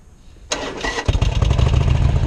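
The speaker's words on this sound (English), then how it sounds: "The bike, look at it. It's dying." A Harley Sportster motorcycle engine turns over abruptly, then catches and runs loud and close with an uneven, sputtering beat.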